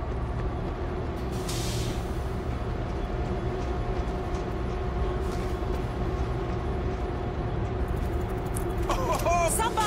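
A train in World War Z rumbles along with a continuous loud mechanical drone and a hiss of air brakes, followed by a metallic squeal near the end.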